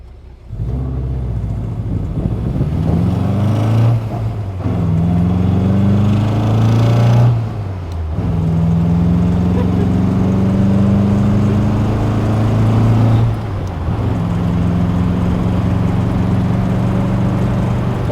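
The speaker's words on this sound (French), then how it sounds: "On va faire la course avec un Kangoo." A Triumph TR4 engine races a Renault Kangoo, droning loud and steady with rising pitch as it accelerates through the gears, with brief dips at each gear change, no talk.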